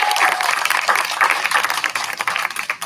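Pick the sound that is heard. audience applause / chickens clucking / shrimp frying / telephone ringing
audience applause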